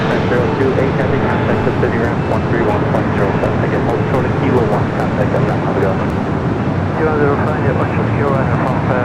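An Air France A350 airliner taxis at LAX, a loud, steady jet-engine roar that fills the scene, with a voice talking over it throughout.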